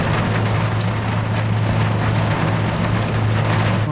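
Steady rain falls aboard a ship in the Seafarer ship simulator game, a dense continuous hiss of drops on the surface with a low constant engine-like hum underneath, no voices.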